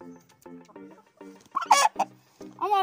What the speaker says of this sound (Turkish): bu Hint horozu çok güzeldir.